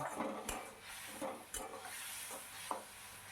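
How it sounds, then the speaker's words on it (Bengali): Spice paste for doi vendi (okra in yogurt) frying in a pan as a spoon stirs it, a soft continuous sizzle broken by a few scraping stir strokes, close and fairly quiet. "এবার মশলাটাকে ভালো করে কষিয়ে নিতে হবে"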